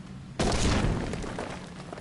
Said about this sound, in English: And we have another kaboom.